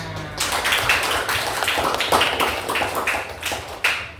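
A classroom of students claps together for several seconds, a dense run of close, sharp hand claps that stays fairly even before thinning out near the end.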